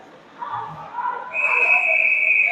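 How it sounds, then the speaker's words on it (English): Referee whistles blow during an ACHA college ice hockey game between Bridgewater State and UMass Lowell, a long steady shrill blast rising over arena noise after a short earlier burst, with a voice briefly heard beneath. "and we got whistles here"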